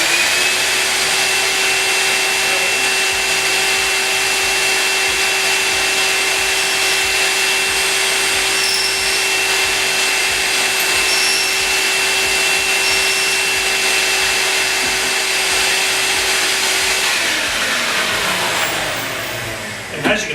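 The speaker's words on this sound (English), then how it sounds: "So I'm going to turn on my vacuum now." A shop vacuum clearing dust from a Kreg pocket hole jig, a loud steady whine and roar running unbroken for about seventeen seconds before winding down.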